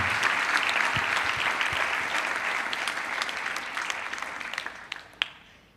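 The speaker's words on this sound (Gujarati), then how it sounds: "એકવાર જોરદાર તાળીઓ ડૉક્ટર સુરતભાઈ માટે." An audience claps loudly and steadily for Dr. Suhradbhai at a talk, sustained dense applause that slowly thins out toward the end with a few last isolated claps.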